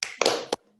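A class performing the rhythmic tepuk PPK hand clap, a few sharp claps in quick succession, close and fairly loud, ending abruptly into silence.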